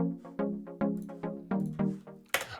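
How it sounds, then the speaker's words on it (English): Repeated synth chord hits with a delay effect, each stab followed by fading echoes, ending in a brief bright noisy burst; alone and close, no talking. "this is with a delay"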